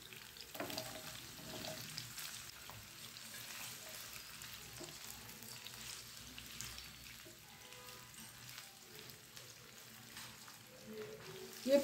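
Onions fry gently in a pan with a soft, continuous sizzle, quiet and even throughout, with a few faint crackles and no voices.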